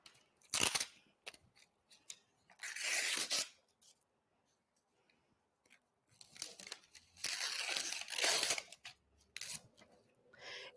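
Paper backing being scored with a blade and peeled away from sticky embroidery stabilizer, heard as close, intermittent bursts of scratchy cutting, tearing and crinkling separated by near silence.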